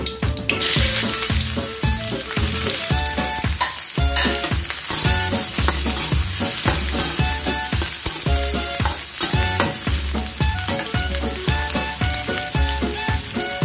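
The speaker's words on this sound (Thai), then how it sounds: "พอกระทะร้อนแล้วนะคะเราใส่แครอทลงไปเลยค่ะ" Carrots sizzle loudly in a hot wok, with repeated clanking scrapes of a spatula stirring in a steady rhythm throughout.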